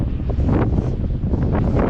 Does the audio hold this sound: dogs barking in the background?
no